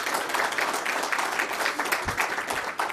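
An audience applauds at an official appearance by a US president and an Israeli prime minister, continuous dense clapping heard from a moderate distance with no voices on top.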